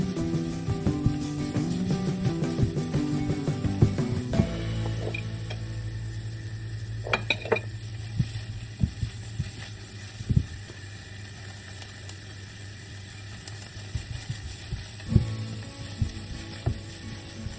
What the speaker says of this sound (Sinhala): තෙලටම මිරිස් ටිකක් දාලා තෙම්පරාදුව හදාගත්තා